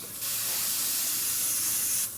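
Thin beige paint hisses out of a spray gun onto a scale model, one loud, continuous burst lasting about two seconds that starts and stops abruptly.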